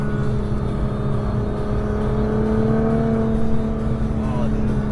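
A Nissan GT-R R35 launches and accelerates hard, its engine note climbing steadily in pitch from inside the cabin, with people talking over it.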